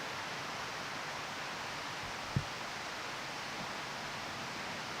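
A forest stream flowing, a steady close wash of rushing water with one small knock partway through, no voices.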